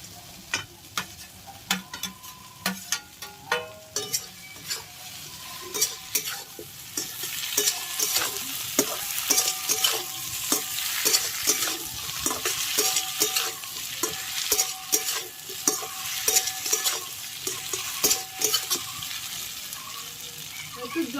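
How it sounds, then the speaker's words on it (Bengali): Fried vegetables go into a hot pan and get stirred, giving scraping spoon strokes and clatter at first, then a dense, continuous sizzle with repeated stirring knocks that runs loud and close. "এবারে ভেজে রাখা সবজিগুলো সব দিয়ে দিচ্ছি।"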